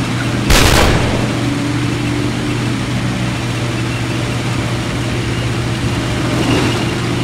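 A Sherman tank gun fires a single sharp, loud blast near the start during a Normandy battle in the Combat Mission game, over a steady rumbling engine drone that continues after the shot.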